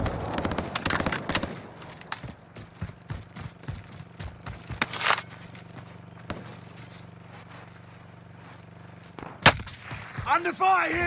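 Gunfire in a Call of Duty Modern Warfare match: a rapid burst of sharp shots at the start, then scattered single reports and a couple of louder bangs over a low steady hum, with brief voice at the end.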